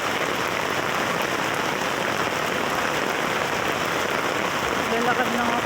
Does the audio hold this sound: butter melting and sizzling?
no